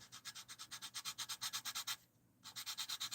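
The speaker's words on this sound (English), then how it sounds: "I'm hitting this thing up with 220 grit right now, like heavily hitting it." Sandpaper of 220 grit rubbed heavily and fast over a workpiece being thinned down, a steady rhythmic rasp of even back-and-forth strokes that breaks off briefly, then resumes, close and alone.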